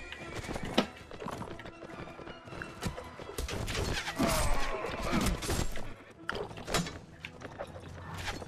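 Horses in the Mount&Blade Warband medieval combat game gallop with clip-clop hoofbeats amid battle clashes and an occasional whinny, moderately loud, with faint voices mixed in.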